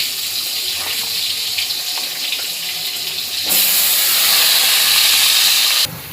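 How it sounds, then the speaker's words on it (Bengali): Battered Bhola fish pieces frying in hot oil, a loud steady hiss that jumps up sharply partway through as more pieces go in, then cuts off near the end; no talk. "মাছগুলোকে ঠিক এইভাবে লাল লাল করে ভেজে নেব"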